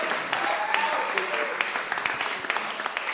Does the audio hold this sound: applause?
yes